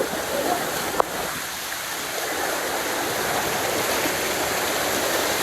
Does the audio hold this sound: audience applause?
no